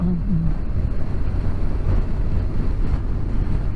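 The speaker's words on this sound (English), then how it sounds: "This is breezy, man, ever so breezy." Wind rushing past a helmet while riding a BMW GS motorcycle, a steady loud buffeting roar with a low engine drone underneath and no voices.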